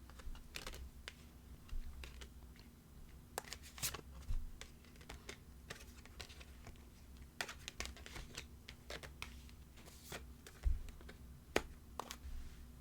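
Tarot and oracle cards are shuffled and drawn in a quiet room, giving soft, scattered flicks and papery snaps at irregular intervals over faint background hum.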